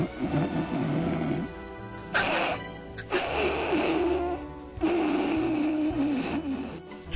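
A man snores in a comedy radio sketch, loud breathy snores and snorts in an uneven rhythm of long drawn inhales and rasping exhales, close to the microphone and with no talking.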